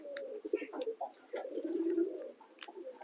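Pigeons, including American fantails and lotans, coo repeatedly in low, rolling throaty calls at close range while bathing and basking in winter sun.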